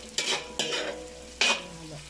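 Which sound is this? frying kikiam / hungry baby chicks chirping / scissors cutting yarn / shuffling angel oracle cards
frying kikiam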